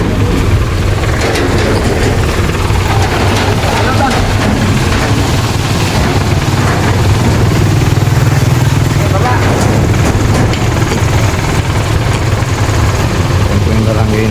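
A fire truck's engine runs steadily throughout at a community fire hydrant, a continuous low rumble with rattling, while people talk nearby.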